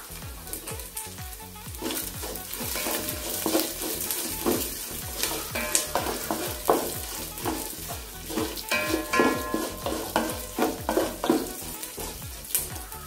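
Chopped dried red chillies sautéing in hot oil for a bilimbi fruit pickle, a busy crackling sizzle with frequent spoon stirs and scrapes against the pan, steady and close throughout, no one speaking.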